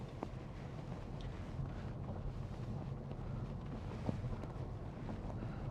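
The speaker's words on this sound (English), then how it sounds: "It's wild up here this morning. It's blowing an absolute hooligan." Strong wind blusters across the microphone outdoors on a wild morning, producing a continuous low rumbling roar with steady buffeting and no speech.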